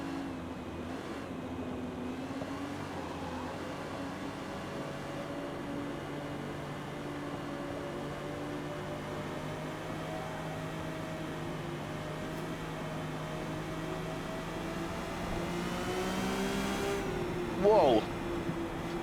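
A race car's engine drones steadily in the Forza Motorsport racing game, a quiet, continuous hum whose pitch drifts gently as it holds speed, with a brief louder burst near the end.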